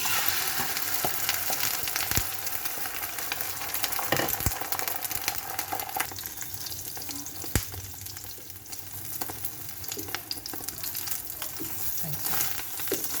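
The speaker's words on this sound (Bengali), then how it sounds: "একটা ডিম ভেজে নিই" An egg frying in a pan of hot oil: a dense, continuous crackling sizzle close by, punctuated by a few sharp clicks and spatula taps, with no speech over it.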